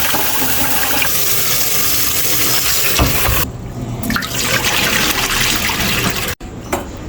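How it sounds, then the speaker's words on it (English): Rice being washed and rinsed in water, a loud, steady rush of running and sloshing water that briefly changes character partway through, with a short break near the end before resuming. "it was a good time for me to wash out my rice. And I'll be giving this like about 3 rinse."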